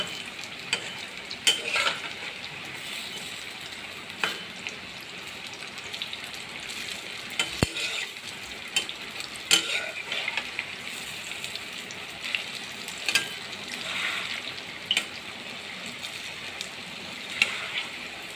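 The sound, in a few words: shrimp shells frying in a pan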